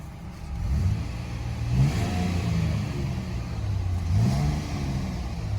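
A 2022 Nissan Frontier SV engine idles and is revved twice, each rev rising and falling in pitch, loud and close with a steady low rumble between and no voices.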